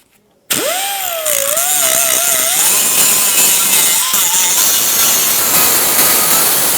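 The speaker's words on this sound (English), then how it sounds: "grind off the rivets holding the strap to the bracket itself" Grinder cutting off the rivets that hold a fuel tank strap to its bracket on a 1994-2004 Chevy S10; a loud, steady whine that spins up after a brief silence and holds with wavering pitch throughout.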